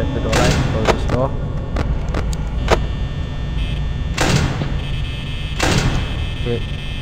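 A door closing in a Five Nights at Freddy's style horror video game, heard as a few sharp mechanical thuds and slams over a constant noisy background hum, with speech present.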